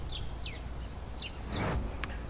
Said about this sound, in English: I have wind and I have these freaking birds